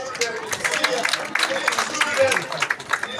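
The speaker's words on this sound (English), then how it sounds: "let us give a very big hand clap to these" Crowd applause for child athletes at the opening ceremony of a national primary school athletics championship, dense steady clapping and cheering mixed with crowd babble throughout.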